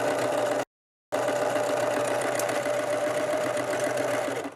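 Sewing machine stitching a fabric basket liner: a rapid, steady mechanical whirring run, a half-second stop, then a longer continuous burst, close and loud with no talk.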